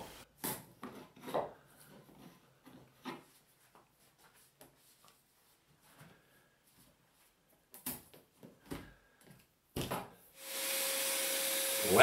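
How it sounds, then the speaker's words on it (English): An old screwdriver pries a model railway fascia panel off wooden benchwork on an N-scale layout, making several short scraping, creaking bursts separated by quiet gaps, then ending in a steady vacuum-like hiss. "using an old screwdriver and a little force, I pull the panel off the benchwork."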